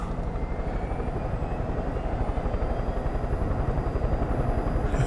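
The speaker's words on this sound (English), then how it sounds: "Let's drive a plane." Aircraft engine in the video game Far Cry 5, a steady, loud droning roar with a rapid pulsing chop, continuous throughout with no talk.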